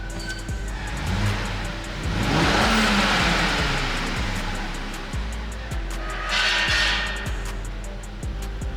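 A car engine runs steadily throughout, with swelling rev rises and a passing whoosh of road noise, fairly loud and close with no talk.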